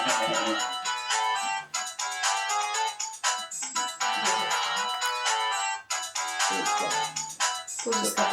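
A phone ringtone plays during a recorded interview with a Vietnam War veteran, a repeating bright electronic melody looping steadily for several seconds, clear and prominent with no talk over it.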